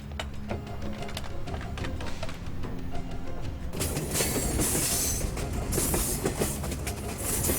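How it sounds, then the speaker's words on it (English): A train running at speed along main-line tracks, a steady loud rumble with rhythmic wheel clatter that swells into a brighter, harsher roar partway through, continuous throughout with no talk. "It'll take at least 2 miles for that train to stop at the speed it's going."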